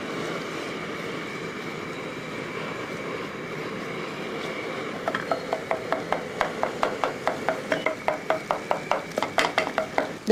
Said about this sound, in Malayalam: ഈ അരച്ച് വെച്ചിരിക്കുന്ന മുട്ട അങ്ങോട്ട് ഇട്ട് കൊടുക്കും ഇത് നമുക്കൊന്ന് ചിക്കി എടുക്കണം